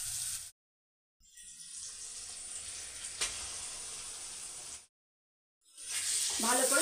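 Spice mixture sizzling in a pan while cooking for chicken keema kichuri, a steady frying hiss broken by two short silences, fairly close and continuous with no talk.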